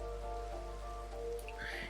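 Steady rain patters in the Minecraft video game, a soft continuous hiss under tonal game sounds, with a brief fainter stir of movement near the end.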